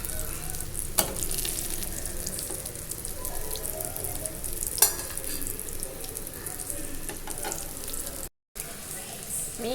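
Fish fries steadily in a pan, a dense, even sizzle and crackle like light rain, with a couple of sharper pops, close up and uninterrupted apart from one brief dropout.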